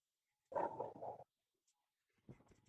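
A dog gives a low growling grumble close by, followed by a pause and then a second, quieter rumbling sound.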